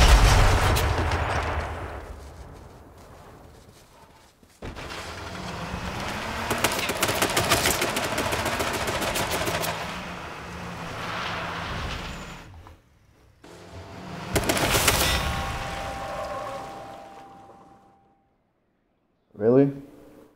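Video game gunfire comes in loud bursts of rapid shots. Separate volleys are broken by short pauses, with a brief sharp burst near the end.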